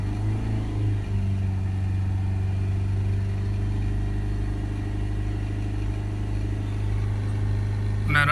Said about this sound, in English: Hold the revs up.